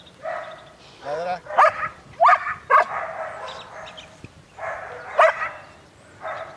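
An 11-month-old female Dutch Shepherd barking on command, several sharp, loud, close barks spaced a second or so apart, with a handler's voice giving commands in between.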